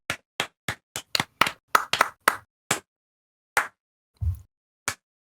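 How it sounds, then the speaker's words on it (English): A lone pair of hands claps about a dozen times in an uneven, sparse rhythm, with sharp, close, dry slaps, gaps between them and a softer thud near the end, standing in for a round of applause. "Round of applause."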